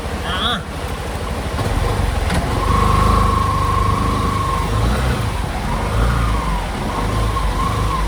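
A tricycle engine pulls into a garage during heavy rain, a loud, close motor drone that idles, then swells and eases as it revs, with a steady hum rising above the rumble.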